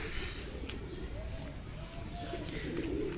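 A domestic Andra pigeon, a bird that has flown in tournaments, gives a few soft, low coos close by over steady background noise.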